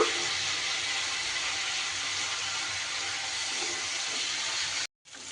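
Spiced masala paste sizzles loudly in a pan after a splash of water, a dense steady hiss that fills the clip and then cuts off abruptly near the end.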